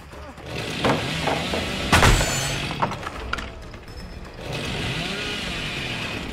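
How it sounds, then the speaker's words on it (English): Chainsaw revving in the Dead by Daylight video game, a gritty buzzing roar that surges and fades across the stretch amid thuds and other game noises. "I want to try and freeze this chainsaw again"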